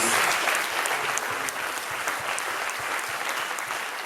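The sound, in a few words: church congregation applause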